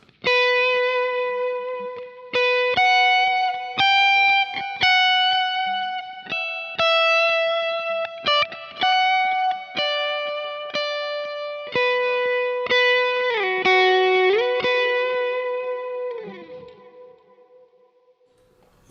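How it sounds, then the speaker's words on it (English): Slightly distorted lead electric guitar with compression and delay plays a melodic line of sustained notes and short phrases, with some bends near the end, ringing out alone before fading. "the lead guitar tone is in there, slightly distorted, so it's basically something like this"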